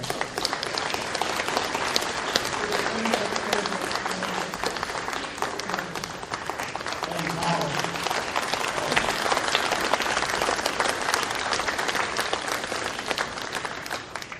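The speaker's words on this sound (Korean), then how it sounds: "세 분을 위해서 우리 뜨거운 감사의 박수 한번 쳐주십시오." Sustained audience applause for three biennial foundation directors at a World Biennial Forum opening ceremony, dense and steady throughout with faint crowd murmur beneath.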